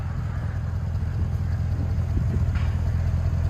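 A RAM 1500 pickup's 5.7L HEMI V8 with an aftermarket exhaust and resonators idles in a low, even, subdued rumble that holds steady without revs.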